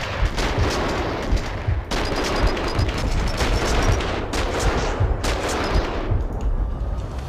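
Dense, continuous gunfire from the Max Payne 2 video game, rapid overlapping shots and bursts filling the whole stretch at steady loudness with no pauses and no talking.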